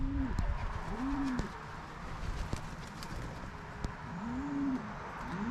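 Homing pigeons coo softly in low, rounded phrases, a few calls spaced apart over a faint outdoor background with occasional taps.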